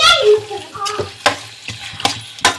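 Chicken liver frying in a pan as it is stirred and mixed, with a steady sizzle broken by several sharp scraping clicks of a spoon against the pan, close and fairly loud.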